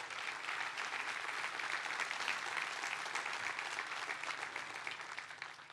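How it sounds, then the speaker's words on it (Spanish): Congregation applauding at a church service, a dense, steady wash of clapping from a large group that holds evenly and tapers slightly at the end, with no talking over it. "Denle un fuerte aplauso."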